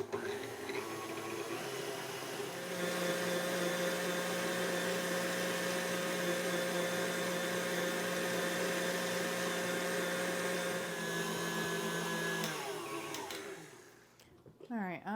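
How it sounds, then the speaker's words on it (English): An electric mixer beating meringue with sugar for pavlova, a steady whirring motor hum running continuously and fairly close, winding down near the end. "Continue to blend for about 5 minutes because we want this to be smooth and glossy."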